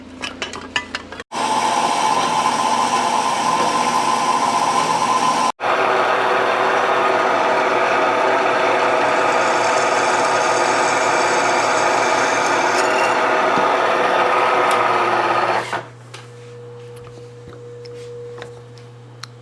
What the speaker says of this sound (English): get our first hole drilled there